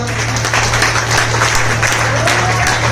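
A seminar audience in Rohtak gives a burst of hearty clapping, a dense, close wash of hands with a low steady hum running underneath.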